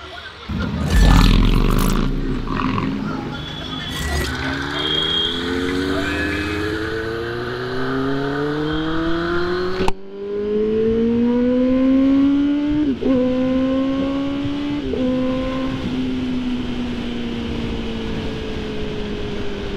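A motorcycle engine runs steadily as the ride begins, the drone rising through the gears with a few shifts. It stays close and loud beside wind noise.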